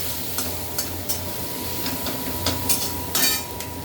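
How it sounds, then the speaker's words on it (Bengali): Food frying in a pan in a home kitchen before tomatoes go in, giving a steady close sizzle with occasional stirring scrapes and clinks throughout, no talking. "তো এটাকে এখন একটু ফ্রাই করবো আমি, ফ্রাই করে তারপর টমেটো দেবো।"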